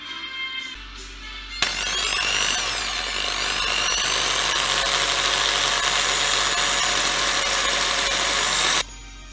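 A power drill drilling a homemade fishing lure starts with a sudden whine and runs steadily for about seven seconds, close and loud, then stops abruptly.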